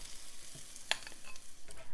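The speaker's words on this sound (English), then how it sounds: "I'm going to be adding the chicken to the frying pan" Chicken pieces frying in a frying pan, giving a steady close sizzle with light crackles and a brief stir or clink near the middle, with no talking.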